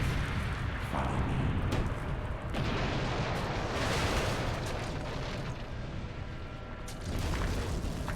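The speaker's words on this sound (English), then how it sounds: "Explosion." A rumbling explosion booms through the video game Call of Cthulhu: Dark Corners of the Earth, heavy low-end roar with several sharp bursts layered over a continuous dense noise.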